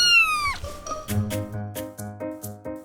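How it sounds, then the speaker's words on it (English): Cats at a crowded animal shelter meowing, one long falling meow followed by a rapid series of short rhythmic meows, close and clear with no talking. "We have way too many cats."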